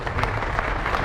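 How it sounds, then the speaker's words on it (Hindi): Audience applause at an academy celebration program in Bhilwara, a steady mid-level patter of many hands clapping throughout, with no clear voices over it. "जबरदस्त ताली होनी चाहिए।"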